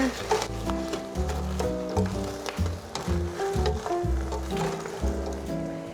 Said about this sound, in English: You can already hear the berries starting to pop.